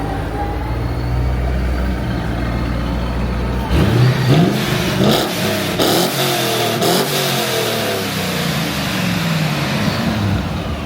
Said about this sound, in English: let's walk to the back, hear that exhaust system.